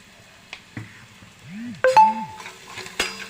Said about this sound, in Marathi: हा आपण मिक्स करून घ्यायचा आहे चांगला कांदा लाल होईपर्यंत स्लो गॅसवर परतवायचा आहे